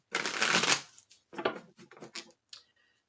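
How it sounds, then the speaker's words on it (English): Three tarot cards are drawn from a deck for a pick-a-card reading. A long close rustle of shuffling gives way to several shorter card flicks and snaps, then fades to near silence. "So let's get the 3 cards."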